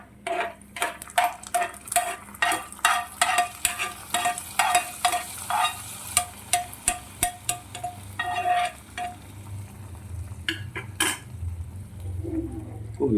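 Ghee-roasted peanuts and coconut pieces stirred into a pot of unakkalari payasam: a quick series of sharp spoon clinks and scrapes against the metal pan over a soft sizzle, close and loud, then a quieter simmering stretch at the end.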